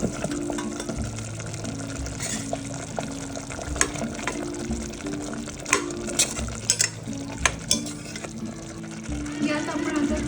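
Cut jackfruit pieces dropped into a simmering curry and stirred, with continuous bubbling, sizzling and scraping against the pot, while someone talks over it and soft background music plays.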